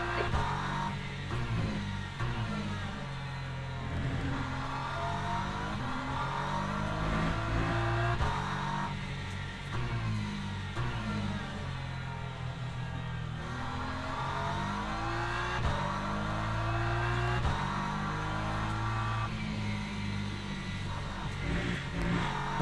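A BMW GT3 race car engine in the Le Mans Ultimate racing game drones and revs continuously, its pitch climbing through gears and dropping on lifts, loud and steady with no talking.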